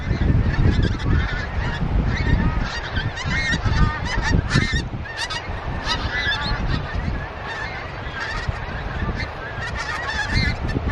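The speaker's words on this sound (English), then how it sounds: "Night time geese." A large flock of geese flying over at night honks continuously overhead, many overlapping calls of varying pitch forming a loud, busy chorus that carries on throughout.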